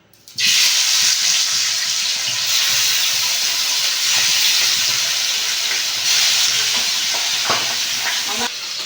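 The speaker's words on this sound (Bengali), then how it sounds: "তেলটা গরম হয়ে গেছে মাছটা আমি দিয়ে দেবো এই মাছগুলো আমার ফটে ফটফট করে" Pabda fish dropped into hot mustard oil in a pan bursts into a loud, dense sizzle that holds steady and close, with occasional crackles and faint utensil knocks and no talking.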